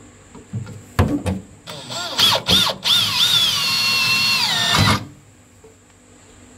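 A power drill bores into the hull of a small aluminium tinny boat for a bilge pump installation, a few short bursts followed by a sustained whining run that stops abruptly, close and fairly loud.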